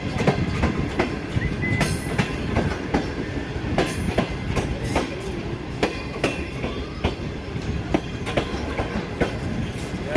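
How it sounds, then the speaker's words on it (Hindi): A train braking at Bahawalpur railway station in Pakistan, with a dense rolling rumble and quick, irregular clicks of wheels on rail joints running for ten seconds, loud and near, without speech. "और ये यहाँ ब्रेक हो रही है।"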